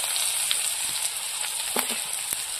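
Onion and garlic fry with five-spice in the oil left from frying fish in a village kitchen, a soft continuous sizzle with occasional faint stirring clicks.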